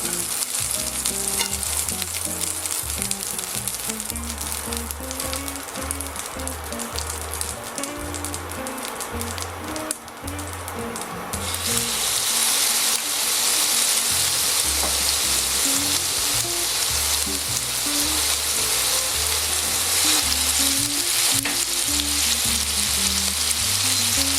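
A squid steak fries in oil and butter in a hot pan, a loud, steady sizzle and crackle that grows fuller and brighter partway through, heard over background music with no talking.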